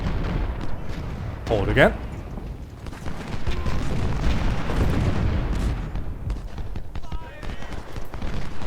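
Musket volleys and artillery booms rumble and crack in the Civil War strategy game Ultimate General: Civil War, a continuous battle din with heavy low thuds, while someone talks briefly over it.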